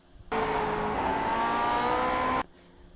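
A Lotus 49 race car's engine in the iRacing sim screams at high revs, a loud, steady whine that cuts in abruptly, holds with slight rising pitch for about two seconds, then stops.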